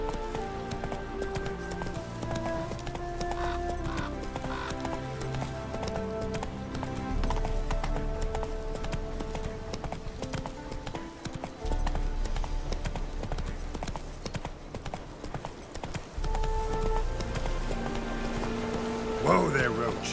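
Roach the horse gallops in The Witcher 3, with rhythmic hoofbeats running under loud, continuous orchestral game music and a voice talking.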